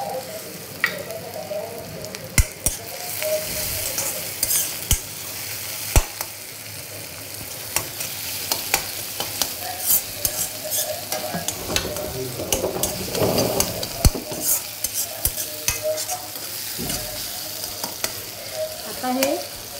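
Chopped onion and tomato fry in hot oil for an aubergine masala, a steady close sizzle and crackle with occasional spoon stirring and scraping against the pan.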